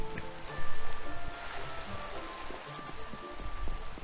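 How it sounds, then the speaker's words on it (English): Rain patters steadily in the game Minecraft, a soft continuous hiss of drops on surfaces with faint trickling, fairly quiet and with no one talking. "This was really the most inconvenient time for rain to start."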